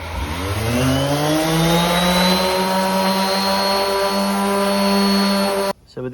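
A power sander with a foam interface pad works on a plastic bumper from a Mk5 Golf GTI, giving a loud, steady motor whine with a slight pitch sag before it cuts off abruptly near the end.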